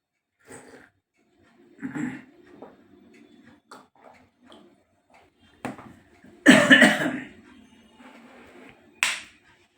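Someone eating khichuri coughs and chokes, with scattered small coughs and breaths building to a loud, harsh coughing burst and a final cough, close up in a quiet room.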